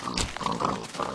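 Minecraft pig oinking in a few short nasal grunts over about a second, close and clear, with no talking.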